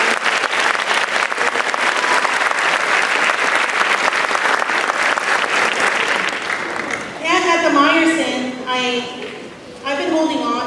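Applause from a junior high honors band spring concert audience, a dense steady wash of clapping for about seven seconds before a voice begins speaking through the tail of it.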